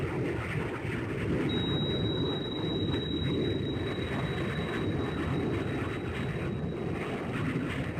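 A Su-27 Flanker jet in the Sub Command game roars past as a broad, steady engine rumble with a thin high whine, continuous and fairly loud with no talking.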